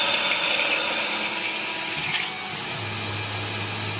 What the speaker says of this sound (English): Here we are, drilling again. Just doing a peck cycle.